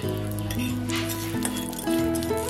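Whole cumin seeds dropped into hot oil in a kadai already holding dried red chillies and bay leaves, a light crackling sizzle under clinks and scrapes of a stirring utensil against the metal pan.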